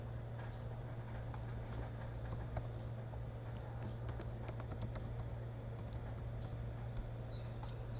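Keys on a computer keyboard tapped in a quick, irregular run while a password is entered, the clicks close and crisp over a steady low hum, with no one talking.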